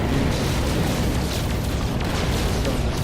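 Photon cannon fire from a starship in No Man's Sky on PS4, a loud continuous roaring blast stream with repeated bursts layered over a dense rumble.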